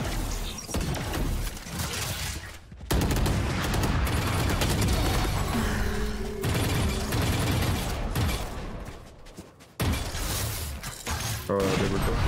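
Rapid bursts of gunfire and mechanical clatter erupt repeatedly in a competitive shooter game, loud and close, interrupted by a couple of abrupt silent gaps.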